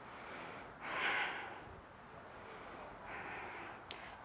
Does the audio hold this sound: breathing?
yes